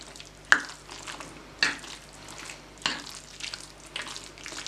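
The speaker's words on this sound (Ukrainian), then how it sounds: "Ретельно все перемішую." Spoon stirring a cherry liqueur cake mixture in a bowl, three distinct scraping clinks spaced about a second apart over soft wet mixing sounds, close and fairly quiet.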